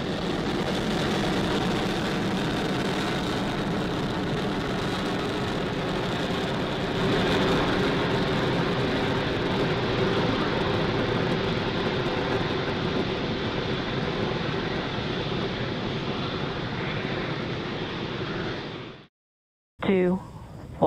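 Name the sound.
SpaceX Falcon 9 rocket launch engine roar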